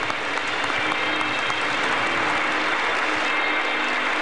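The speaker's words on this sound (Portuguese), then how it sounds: "Grande salva de palmas, a Senhora Aparecida." A big round of applause fills a church during an episcopal ordination Mass, a dense, even roar of many hands clapping continuously and loudly.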